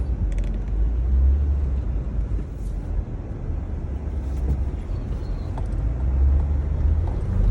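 A car bought at auction is driven across a street, a steady low engine rumble near and constant for the whole stretch with no talk.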